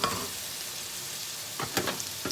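Garlic sizzles in a frying pan with carrot and onion, a steady close hiss with a few stirring scrapes near the end.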